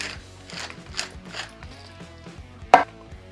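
A spice grinder twisted to crack black peppercorns, clearing out leftover allspice, gives a rhythmic ratcheting crunch in several quick turns, close up, followed by one sharper, louder knock near the end.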